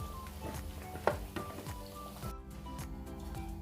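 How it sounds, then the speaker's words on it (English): Sliced plantain deep frying in hot oil for a Nigerian breakfast makes a soft, steady sizzle with light crackling. One sharp clink stands out near the start, and the frying stays fairly quiet and continuous, with no speech. "you allow it time to cook in the oil, fry and cook very well"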